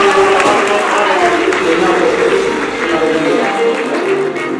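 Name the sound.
audience applause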